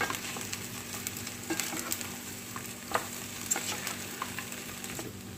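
Macaroni is tossed with pepper and salt in a bowl, a faint soft rustle with scattered light taps and scrapes of a spoon over quiet background hum. No speech.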